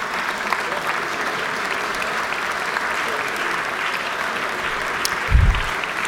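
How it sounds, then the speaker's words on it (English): A full round of sustained clapping fills the Georgia House of Representatives chamber as members stand, an even roar of many hands with a low thump near the end. "So if you could stand and give him a round of applause"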